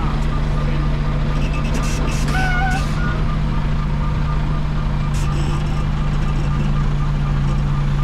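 Truck engine in a trucking video game with its differential locked, straining to move: a steady low drone with a constant hum, a brief beeping tone and faint clatter, loud throughout and with no talk.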